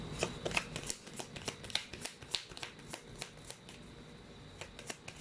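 Tarot cards being shuffled for a love reading, a steady run of soft riffling, slapping card sounds with sharp flicks scattered through it, close by and with no talking.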